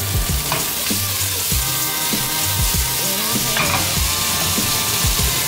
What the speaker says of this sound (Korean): 당근을 같이 볶아주고요.